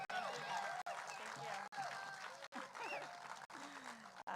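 Applause at the Foothill Unity Center Golden Plate Awards 2021, a moderately distant, steady patter of clapping with scattered voices and cheers, cut by brief gaps.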